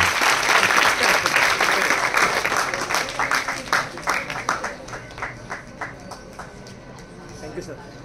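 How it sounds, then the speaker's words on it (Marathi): An audience at a 144th anniversary celebration breaks into loud, dense clapping that thins and fades over several seconds into scattered claps. "आजच्या वर्धापन दिनाच्या निमित्ताने जोरदार टाळ्यांचा कडकडाट होऊ द्या"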